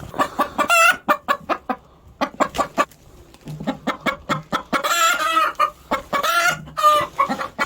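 Hens cluck close by in a coop, giving rapid rhythmic bursts of loud clucks broken by short pauses, then fuller agitated squawking calls toward the end.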